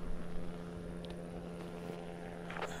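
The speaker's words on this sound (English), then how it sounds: "I don't even see the airplane." A steady aircraft drone in the video game Greyhill Incident, a constant low engine hum with a tonal whine, droning evenly throughout without talk.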